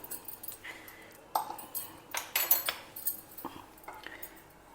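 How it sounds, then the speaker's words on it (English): A spoon stirs ground roasted methi seed powder into a chilli mixture, producing scattered light scrapes and metallic clinks against a bowl, close and fairly quiet, in irregular bursts. "Give it all a good mix."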